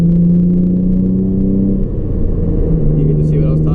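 A car pulls onto Interstate 485 near Charlotte during a highway cruise, its engine rumbling low and steady as the pitch climbs under acceleration, close and continuous with road noise throughout.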